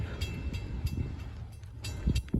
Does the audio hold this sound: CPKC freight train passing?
yes